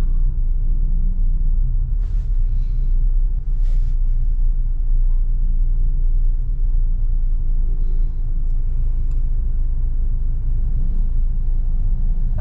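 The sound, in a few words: road traffic near a skyway construction site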